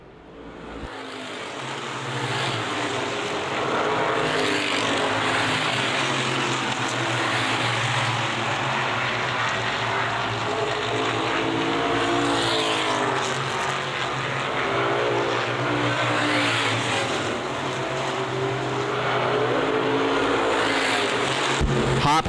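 Street stock race cars circling Winchester Speedway, a continuous loud engine roar with rising and falling pitch as cars pass, heard at a distance.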